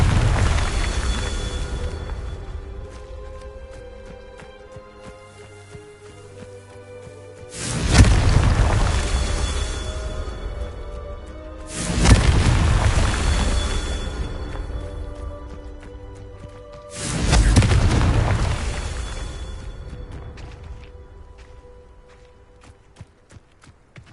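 Confringo spell blasts in Hogwarts Legacy, three heavy booming explosions spaced several seconds apart, each with a long rumbling decay, over quieter game ambience and footsteps, no talking.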